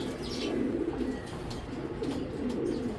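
Belgian, Dutch and German pigeons kept for sale, including an original club-bred hen, coo in soft, repeated throaty calls, close by and moderately quiet, with faint chirps mixed in.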